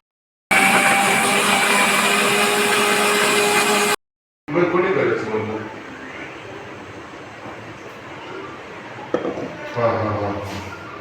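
A mixer grinder whirs loudly for a few seconds, grinding jackfruit with water, and cuts off abruptly, followed by quieter rattling and faint clatter.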